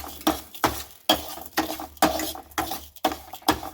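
Semolina and sugar stirred in a light kadhai over a low flame, a spoon scraping in a brisk rhythm of about eight strokes, close and moderately loud with a faint sizzle beneath.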